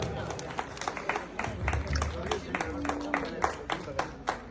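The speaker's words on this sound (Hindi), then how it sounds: "उनके लिए एक जोरदार तालियां हो जाए" An audience at a gathering claps for Rohit Agarwal, with scattered, uneven hand claps over low crowd murmur and voices.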